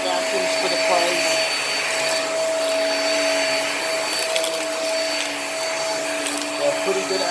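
A Hoover React vacuum cleaner runs steadily on carpet, a loud continuous motor whine with a high tonal hum that stays even throughout, close and alone.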